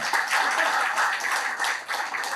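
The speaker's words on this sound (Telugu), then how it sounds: "గట్టిగా చప్పట్లు కొట్టాలి" Loud, continuous applause from an audience at a public gathering honoring a newly appointed TTD board member, steady dense clapping throughout.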